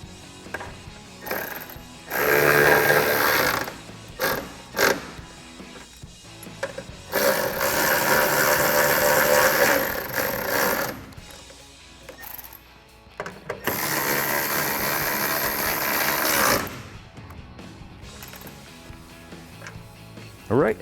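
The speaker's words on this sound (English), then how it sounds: "go ahead and tighten them down with your 10mm socket" Bursts of rapid ratcheting from a 10mm socket wrench tightening tail light fasteners on a 2009-2015 Toyota Tacoma, several separate runs of clicking with quiet gaps between them.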